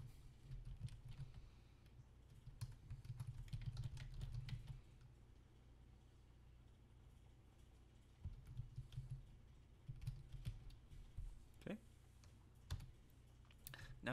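Fingers typing on a computer keyboard, bursts of rapid soft key clicks separated by short pauses, close and fairly quiet.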